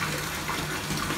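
Water gushes steadily from a tap into a bathtub, a constant close rushing flow that runs alone without pause.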